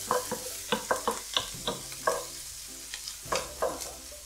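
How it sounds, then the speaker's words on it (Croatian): Onion and pepper with a spoonful of cocoa being stirred in a frying pan for chili con carne: a spoon scrapes and clacks several times over a low sizzle, close up, no voices. "Promiješati to sve skupa."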